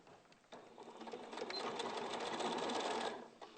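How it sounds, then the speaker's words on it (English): A domestic sewing machine runs a continuous whirring stitch along the side seam of a sewing project, starting after a short pause and holding steady, close and fairly loud, with no talk. "Just sewing the side."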